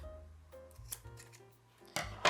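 Scissors cut off the end of a coil on a large coiled basket, giving two crisp snips near the end after a stretch of faint handling noise and low hum.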